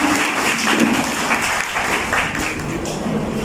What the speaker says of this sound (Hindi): पहले सर के लिए एक और बार जोरदार ताली।